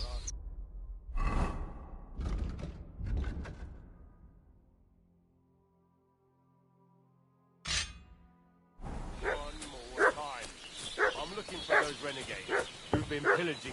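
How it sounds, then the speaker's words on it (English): Dog barking in Kingdom Come: Deliverance II, a few clustered barks early on, then a lull and a single sharp bark before a stretch of game dialogue takes over. "What's that dog making such a fuss about?"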